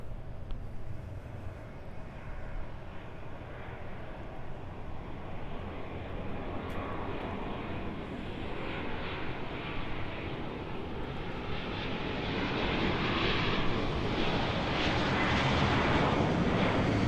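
American Airlines Airbus A321-200 airliner arriving at Los Angeles airport, a steady broad engine roar that swells gradually louder toward the end as it passes near, with no talk.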